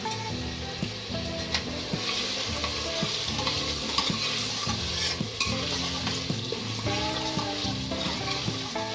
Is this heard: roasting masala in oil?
yes